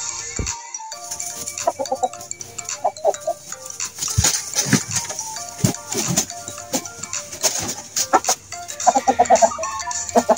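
Fighting gamecocks kept for breeding cluck and crow in a farm pen, with repeated short calls scattered across the clip alongside other livestock noise and faint talk in the background.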